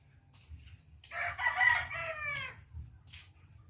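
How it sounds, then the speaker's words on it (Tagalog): Roosters and hens crowing at a rural home, a single long cock-a-doodle-doo rising in the middle with softer clucks and calls around it, moderately close over a low steady background hum. "Padungag mga manok oh."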